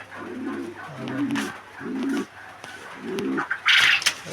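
Fancy pigeons coo close by in a steady series of about five low, rolling phrases, with a brief brighter flutter or rustle near the end.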